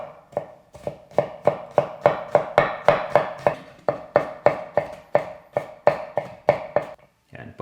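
A knife slices through crushed aromatics on a cutting board, giving about twenty crisp, even knocks in a steady rhythm, close and clear, with a short pause near the end before a final cut.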